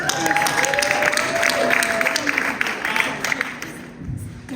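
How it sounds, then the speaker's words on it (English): A round of applause from a caucus meeting audience, dense clapping with some cheering that fades out near the end as the room quiets. "Can we get another round of applause for Belle,"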